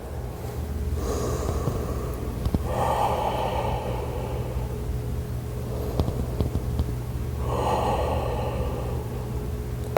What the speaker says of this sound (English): take 5 breaths here in this lizard pose